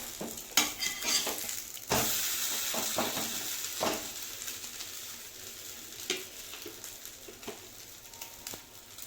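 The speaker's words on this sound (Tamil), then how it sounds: "ஸோ பட்டர் விட்டு டோஸ்ட் பண்ணி எடுத்துக்கணும்." Bread slices toasting in butter in a pan for bread omelette, with a steady broad sizzle throughout and sharp clicks and scrapes from a utensil turning and pressing the bread, close and fairly loud, no talking.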